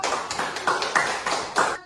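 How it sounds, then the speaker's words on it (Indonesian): A classroom of students applauding together, bursts of clapping swelling and fading in several quick waves over about two seconds, fairly close and full, with no talking. "Beri tepuk tangan untuk kita semua."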